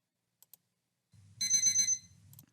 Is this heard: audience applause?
no